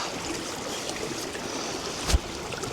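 Fresh mountain water running in a stream along a wild southern coast, a steady close rushing and trickling wash with one brief louder splash near the end.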